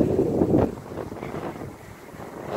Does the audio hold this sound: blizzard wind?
yes